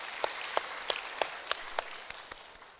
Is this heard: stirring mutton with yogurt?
no